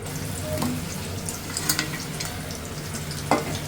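A fish head fries in mustard paste with vegetables in a pan, giving a steady, moderately loud sizzle with a couple of brief utensil clinks, and no one speaks.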